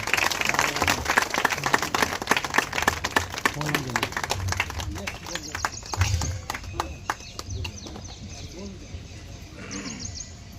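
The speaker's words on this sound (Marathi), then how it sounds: "जोरदार टाळ्यांच्या गजरामध्ये साहेबांचं स्वागत झालं पाहिजे" A crowd at an event bursts into dense, loud applause to welcome a guest, the clapping filling the first several seconds and then thinning out and fading, with a voice speaking over it.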